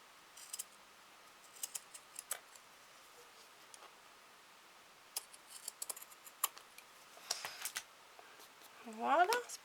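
Scissors trimming excess lace glued onto a craft piece, with sharp snips in scattered clusters close by, a brief rustle, and a voice speaking at the end.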